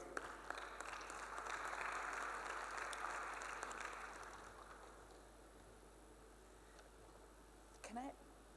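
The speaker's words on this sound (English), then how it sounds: "Let's give her a round of applause" Audience applause at a Power-to-X summit panel session, a broad wash of clapping from a large hall that swells over the first few seconds, then gradually fades into quieter room tone.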